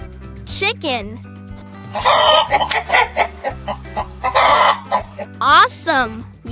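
A chicken clucks in a burst of short choppy calls, framed by rising, squawking cries near the start and end, loud and close with no other sounds.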